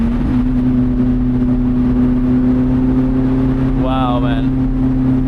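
Steady engine drone and tire hum from a car climbing the winding Gotthard Pass mountain road toward Italy, continuous and close throughout, with a man's brief exclamation over it.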